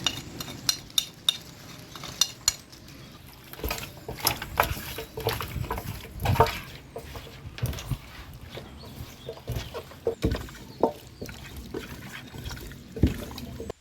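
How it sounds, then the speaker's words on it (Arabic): Spices are tossed through raw chicken wings in a bowl, giving soft wet squelches and rustles in irregular bursts with a few sharper knocks from the bowl, close up and with no talking. "هننزل بنص التوابل على الاجنحه ونولفهم مع بعض تمام"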